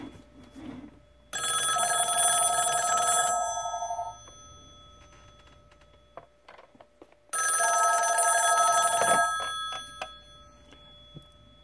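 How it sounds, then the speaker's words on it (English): An antique telephone's mechanical bell rings in two long, loud metallic bursts separated by a pause, with faint handling clicks in between. "See if she makes it ring."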